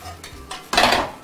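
Dishes and cutlery clatter in a hotel kitchen as chicken Kiev is plated: a few light clinks, then a louder, busier burst of plates and utensils near the end, with no talk.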